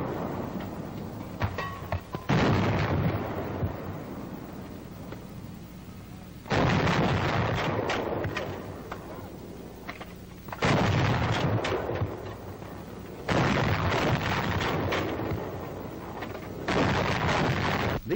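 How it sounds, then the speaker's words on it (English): Coast artillery guns from a 1942 War Department film fire five heavy blasts, one every three to four seconds. Each boom is followed by a long rumbling decay over an old, hissy soundtrack. "the battery safety officer gives the signal to commence firing"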